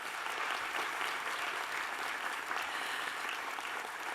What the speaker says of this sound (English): Can we clap them one more time,